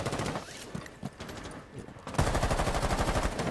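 Video game gunshots ring out, a few scattered single shots at first, then a fast, loud burst of rapid automatic fire in the final second.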